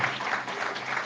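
A church congregation applauds at a sermon, a steady wash of clapping filling the whole brief moment at moderate volume.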